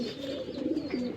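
Low, throaty cooing of a Shahjahanpuri breed pigeon, a continuous rolling murmur with soft pulsing swells, close by and fairly quiet, with no voices.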